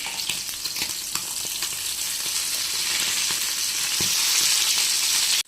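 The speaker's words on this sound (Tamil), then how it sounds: "இப்போ ஒரு சைடு நல்லா ஃப்ரையாக இருக்குது, நம்ம திருப்பி போட்டுக்கலாம்." Sardines (mathi) frying in hot coconut oil with curry leaves, a dense steady sizzle and crackle running throughout, with a few soft clicks and a brief flip near the end.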